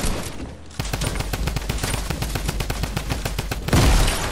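Rapid, sustained bursts of automatic gunfire in a multiplayer shooter video game during a trio battle royale match, loud and dense, dropping briefly before a heavier blast near the end.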